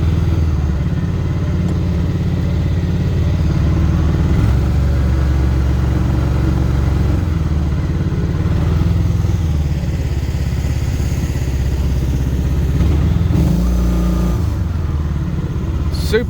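Mokai motorized kayak, a 2019 model upgraded to the Painless 2.1, running steadily upriver at about 16 to 19 mph, its mid-pitched engine droning continuously and loud with slight rises in revs, no talking.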